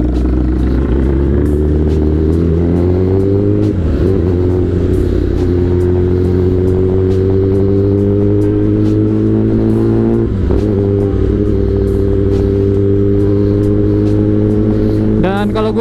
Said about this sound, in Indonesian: udah lama banget kagak bawa motor sport 1000cc untuk San Mori